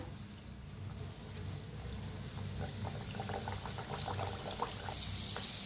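Kachori dough rounds fry in moderately hot oil over a low gas flame, a steady soft bubbling sizzle with small crackles and pops, continuous and close, growing slightly louder near the end.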